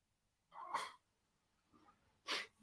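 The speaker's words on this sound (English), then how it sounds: "sneezed right at the wrong moment" A person sneezes twice, a sharp burst followed by a softer sniffing breath and then a second abrupt sneeze, close and clear in a quiet room.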